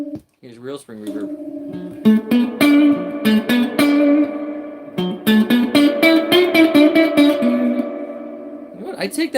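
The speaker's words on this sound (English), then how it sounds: "Here's real spring reverb." Several plucked electric guitar notes and chords ring through a real spring reverb, played in a lively, uneven rhythm with each note carrying a bright, splashy decay, loud and close.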